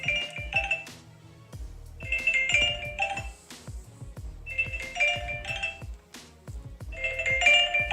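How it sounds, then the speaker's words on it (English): Phone alarm ringtone going off, a repeating bright chiming melody in bursts of about two seconds, moderately loud and close, with no talking over it. "my alarm is going off on my phone"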